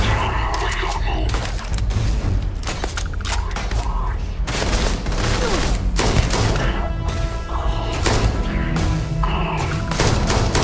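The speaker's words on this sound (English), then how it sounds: "Taking enemy fire." Heavy enemy gunfire in the video game Starfield: a dense, continuous volley of loud shots and thuds, with voices mixed in under the barrage.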